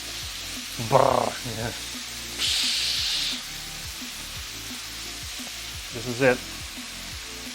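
Chicken thighs sizzle in a hot wok during a fast low-carb stir fry, a steady frying hiss with a louder burst midway, while a person talks briefly over it.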